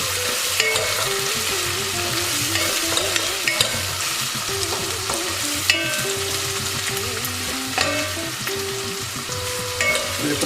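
Whole cumin seeds frying and browning in a pan as the first step of beef rendang, with a steady loud sizzle, crackling pops and occasional stirring scrapes throughout, no voices.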